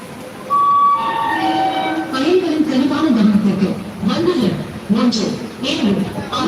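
A train rumbles past nearby with a sustained rolling noise and a horn-like tone at the start, with voices talking over it.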